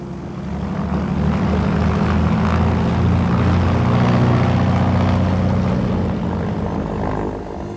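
A parachute jump aircraft's propeller engine drones steadily and loudly in flight, a constant throbbing hum that swells slightly mid-way and eases toward the end, with no voices.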